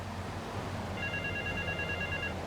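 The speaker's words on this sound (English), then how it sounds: "I hear a phone ringing." A phone rings in the video game GTA 3 Definitive Edition: a faint, steady electronic trill in the background, starting partway through and lasting over a second amid low game ambience.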